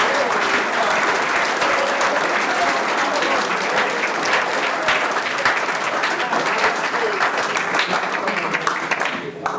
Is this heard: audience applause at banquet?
yes